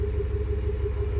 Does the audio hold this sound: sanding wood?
no